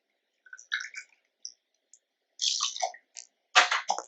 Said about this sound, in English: we'll start with two full ounces of Barr Hill Gin